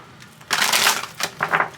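Tarot cards are shuffled by hand up close, one long crisp riffling burst followed by a couple of shorter flicks.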